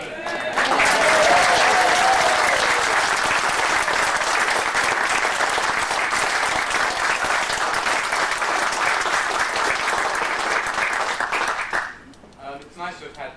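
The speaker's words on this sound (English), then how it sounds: "So, can I have the biggest cheer of the" An audience at a Sherlock Holmes Society of London gathering on a Baltic cruise bursts into loud, sustained applause and cheering for about twelve seconds, then it stops abruptly and a voice begins talking.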